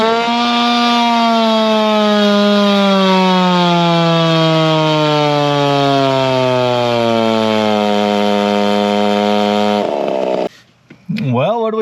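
Two-stroke engine fitted with an iron cylinder sleeve screaming on a dyno, a loud close sustained high-rpm wail whose pitch sweeps downward over about ten seconds before cutting off abruptly.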